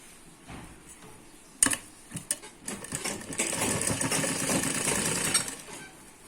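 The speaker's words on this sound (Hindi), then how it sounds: "इस पर एक चारों तरफ से सिलाई कर लेंगे" Sewing machine stitching around a frock collar, a steady run of whirring stitches after a few short taps and bumps, close and fairly quiet, with no talk.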